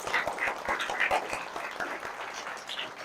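A group of children clap for themselves in a classroom-style setting, a quick run of light, uneven handclaps lasting a few seconds, fairly soft and close.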